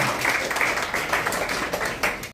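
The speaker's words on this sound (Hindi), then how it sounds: "बहुत जोरदार तालियां बजाइए।" An audience at a Hindi-speaking event launching free coaching for children claps to welcome it, brisk irregular hand claps close by that go on throughout, with a faint murmur of voices under them.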